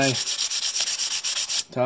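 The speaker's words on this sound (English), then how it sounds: "my hammer, just sand it down real lightly" Light sanding on the head of a brick hammer, a steady run of quick rhythmic back-and-forth scrubbing strokes, close and fairly bright, ending with a brief pause and one more stroke.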